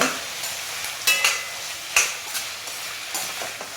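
Pirandai (veldt grape) sautéed with tomato for chutney: a low continuous sizzle broken by a few distinct spoon scrapes and clinks against the pan.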